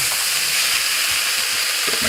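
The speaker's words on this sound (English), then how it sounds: "peppers and garlic till it's soft." Onion, peppers and garlic sautéing in a pan for low-calorie turkey meatballs with chilli beans, giving a steady, close, even frying sizzle with faint stirring throughout and no voices.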